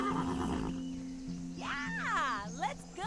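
Horse in the video game Barbie Horse Trails on Nintendo Switch, heard in a loud, close whinny with rising and falling harmonic calls over a steady game-music drone, with faint hoof movement underneath.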